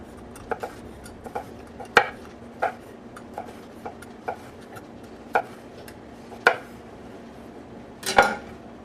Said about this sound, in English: cut up a little bit of red chili. And I'm just going to thinly slice it.